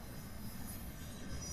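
A train rolls past at a steady, continuous rumble with faint rail squeal on top, a broad even wash of noise from start to finish with no voices.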